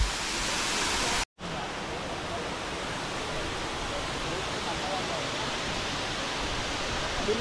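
Doodhani waterfall pours in a steady, broadband roar of rushing water, loud and continuous apart from one brief cut early on.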